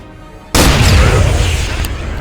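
A rocket fired in ArmA 3, a sudden loud booming blast after a quiet half-second that rolls on as a heavy, rumbling tail, with a faint high ping near the end.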